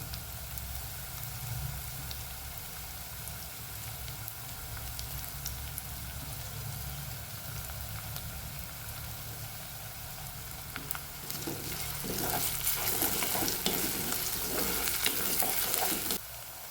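Curry leaves sizzle and crackle in hot oil for a Kerala-style fish curry, a steady close frying hiss that grows louder and more spattering toward the end, with no talking.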